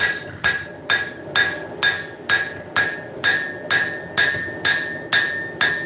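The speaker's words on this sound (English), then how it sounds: "when I go and start forging that bevel, the tip raises at that point" A hammer striking steel while forging the bevel of a hunting knife blade, a loud ringing clang repeated at a steady even pace, about a dozen blows close to the mic.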